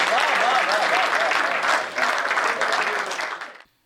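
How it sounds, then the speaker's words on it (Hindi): An audience claps for a poet at a Hindi poetry gathering, sustained, full applause with a few faint voices mixed in. It dips briefly midway, then continues before cutting off abruptly. "ताली बजाइए राजेश चेतन।"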